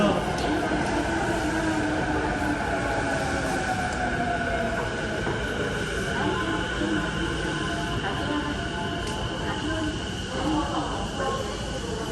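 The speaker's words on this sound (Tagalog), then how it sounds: "Parating na ang tren. Ayan na ang tren na ating sasakyan." A train arriving at a station in Japan rumbles steadily along the rails for several seconds, with faint wheel squeal, while people talk nearby.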